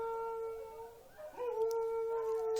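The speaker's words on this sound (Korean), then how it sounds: "멍멍이들" Dogs indoors howl in long, steady, fairly loud tones that rise and waver midway and then carry on to the end.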